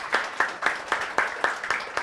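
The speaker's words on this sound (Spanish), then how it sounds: "Un aplauso, por favor." An audience claps at an event, making a short run of regular, evenly spaced claps of moderate loudness with no talking.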